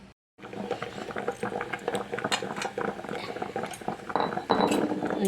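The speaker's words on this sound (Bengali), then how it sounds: "দেখো কি সুন্দর ফুটছে" A prawn dish bubbles steadily in a pot on a low gas flame, with scattered clinks of metal utensils against the cookware.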